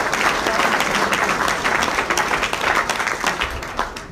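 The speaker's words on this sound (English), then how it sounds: "That's an applause itself." An after-dinner audience in a hotel in Dundee breaks into sustained, dense applause, many hands clapping together at full volume for several seconds.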